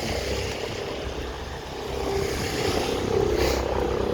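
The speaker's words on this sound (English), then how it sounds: "And there's a helicopter as well" A steady low engine drone from a helicopter overhead in a city street, rumbling continuously and swelling slightly louder toward the end.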